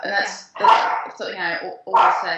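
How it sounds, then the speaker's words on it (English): A dog barks several times, loud and close, overlapping a person's speech. "Hey, there's my dog again."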